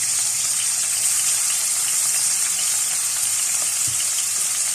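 Mutton is frying hard in half a cup of oil with ginger-garlic paste in a karahi for Peshawari mutton karahi. A loud, continuous sizzle carries across the whole stretch with a faint stirring scrape near the end and no talking.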